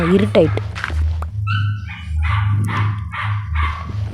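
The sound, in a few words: dog barking in Minecraft video game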